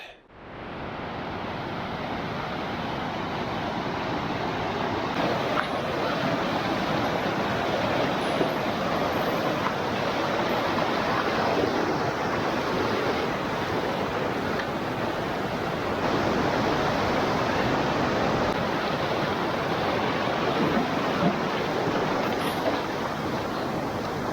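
Continuous broadband rush of a flowing creek at a trail river crossing, steady and fairly loud throughout with no voices.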